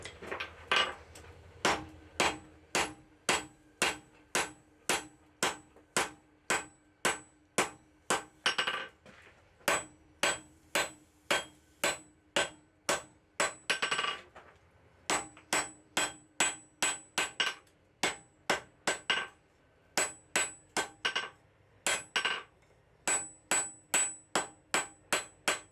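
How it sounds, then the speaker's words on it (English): A blacksmith hammers out the jaw of tong blanks on an anvil in crisp, ringing metallic blows, loud and close, falling in steady bursts with brief pauses between runs. "The rest of the jaw is just hammered out like a regular flat bit pair of tongs up until you reach"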